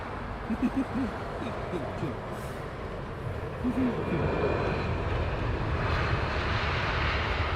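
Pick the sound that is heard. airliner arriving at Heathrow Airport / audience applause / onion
airliner arriving at Heathrow Airport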